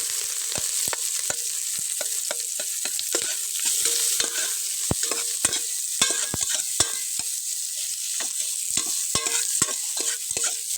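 Garlic, onion and ginger sautéing in a pan, a steady soft sizzle broken by many sharp, rhythmic clacks of a utensil stirring and scraping against the metal, close and continuous.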